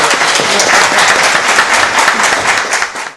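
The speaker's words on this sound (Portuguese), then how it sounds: "Palmas para o Moreira da Copiara" A literary gathering audience bursts into loud, dense applause to welcome a guest author, the clapping sustained evenly before tapering off at the end.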